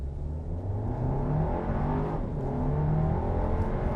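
Volkswagen Arteon R-Line accelerating from a stop, heard from inside the cabin as a steady rising engine hum and road whir that swells gradually, with no talk over it.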